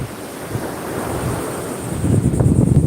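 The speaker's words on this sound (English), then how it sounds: "I don't know if you guys can even hear me with the waves" Wind buffets the microphone while surf washes in, the roar building louder near the end as a wave breaks close by.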